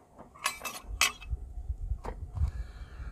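A long metal spoon clinks and scrapes inside the deep SunKettle solar cooker, with a few sharp rattling bursts at first, then lighter single taps, close and clear.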